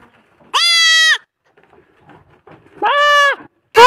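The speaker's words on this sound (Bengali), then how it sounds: "ওই যে ছাগলটা ডাকতেছে" A goat bleats twice, each call loud, close and wavering for about half a second, with a quiet pause between them and a third bleat just starting at the end.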